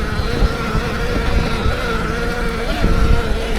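A Sur Ron Hyper Bee electric dirt bike ridden through the woods, giving a steady, loud motor whine with a pitch that rises and falls briefly as it accelerates, heard close up without talk.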